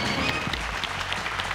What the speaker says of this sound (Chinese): 掌声给他们鼓励一下，大家一起。